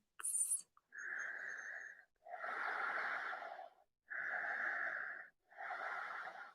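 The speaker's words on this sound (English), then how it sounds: "Steady breaths" Slow, deep breaths during a yoga flow, four long airy inhale-exhale cycles heard up close with short pauses between, alone without talk, opening with a brief higher hiss.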